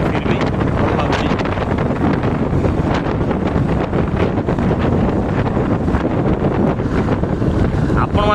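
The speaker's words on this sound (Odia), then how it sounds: "ଗରମ ପବନ ଆସୁଛି" Steady, loud wind rushes and buffets across the microphone throughout a night motorbike ride from Koraput to Rayagada on a hot evening, with no voices.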